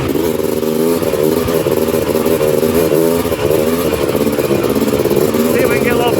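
A Honda TRX330R ATV engine revs loud and close in a steady, rough roar with fluctuating pitch, while a voice talks over it.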